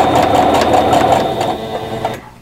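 A sewing machine runs a steady 2.5 stitch-length seam through a quilt block, a continuous close whirring hum for about two seconds before stopping abruptly.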